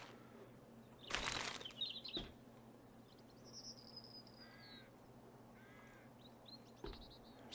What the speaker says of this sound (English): then you spawn the birds.